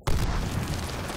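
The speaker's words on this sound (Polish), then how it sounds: "Coś wybuchło." An explosion in the shooter Medal of Honor Warfighter starts with a sudden loud boom, then a heavy rumbling roar that holds steady to the end of the clip.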